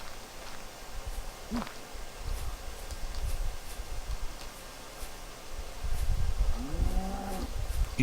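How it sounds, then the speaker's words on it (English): A cow moos in the block-building video game Block Story: one low, drawn-out moo with a wavering pitch near the end, over a steady rustling background hiss. "Evil cow."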